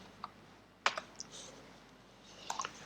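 Scattered keystrokes sound close and soft as numbers are entered on a computer keyboard during Photoshop work. A few separate taps come amid quiet room noise.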